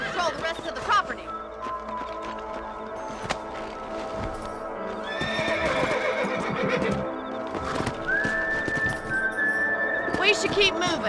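Horses in Red Dead Redemption 2 neigh and whinny with clip-clop hoofbeats as riders mount up on a ranch, set against game music and ambience, with a character's voice speaking over it.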